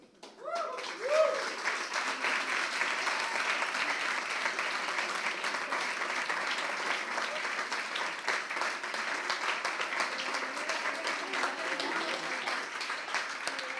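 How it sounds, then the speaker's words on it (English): Sustained audience applause at the closing of a democracy event, a thick wash of many hands clapping that swells quickly after a brief voice and holds steady throughout. "There's a big round of applause for you."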